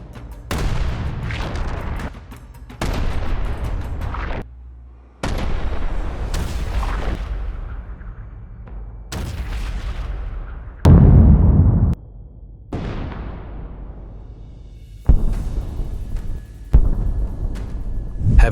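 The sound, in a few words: artillery fire and explosions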